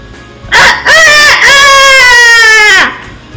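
A voice imitates a rooster crowing during a Spanish read-aloud story for primary schoolchildren, giving a loud, close, drawn-out cock-a-doodle-doo after a short opening syllable.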